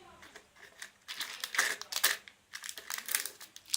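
A crinkly surprise package holding candies and a sticker is torn open up close, giving a string of loud, irregular plastic crinkling and rustling bursts with short pauses between.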